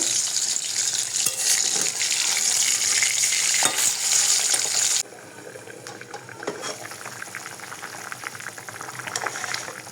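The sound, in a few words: fish frying in a wok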